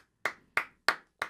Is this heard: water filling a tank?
no